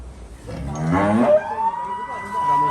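Cattle at an SA Agro farm holding Qurbani 2025 livestock give a loud, drawn-out moo in the middle, with other farm noise and a faint voice in the background.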